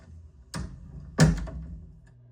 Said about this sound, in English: this is just a track of me opening my door several times